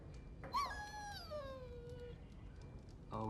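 A dog whimpering in the Dragon Age Origins video game: one rising high whine with a gliding pitch that trails off over a couple of seconds, over low background ambience, with another brief sound near the end.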